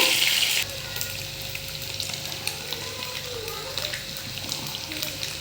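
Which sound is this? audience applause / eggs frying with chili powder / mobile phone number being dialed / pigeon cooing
eggs frying with chili powder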